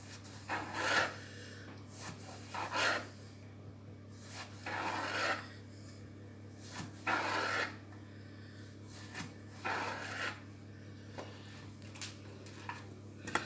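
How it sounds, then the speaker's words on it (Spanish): A knife cuts a zucchini lengthwise into thin sheets on a board: six or seven separate rasping strokes, each about half a second long, spaced apart against a low steady hum, close and moderately quiet, with no talking. "cortar en láminas o rodajas el calabacín"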